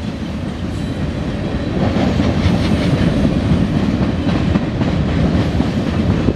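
CSX M560 freight train rolling past in Fostoria, Ohio, a steady loud rumble with rhythmic clickety-clack of wheels over rail joints throughout, close by and without talk.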